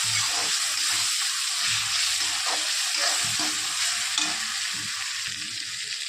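Pieces of salted dried fish sauté in oil with a constant close sizzling hiss, broken by occasional soft stirring scrapes.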